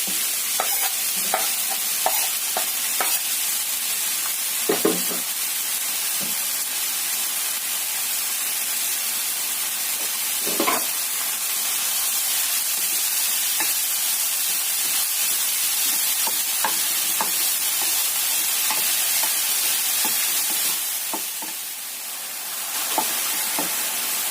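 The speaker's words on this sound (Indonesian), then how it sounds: "Setelah rata atau tercium bau enak, masukkan kucainya. Kita tumis sampai layu." Garlic chives are stir-fried in a hot pan, producing a continuous loud sizzle and hiss broken by repeated spatula scrapes and clatters, close up and with no speech.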